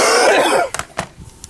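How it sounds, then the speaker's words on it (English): A few short, sharp coughs and throat-clearing bursts follow a breathy, wheezing rush of air, close and loud, with no talk over them. "I'm getting a coughing fit."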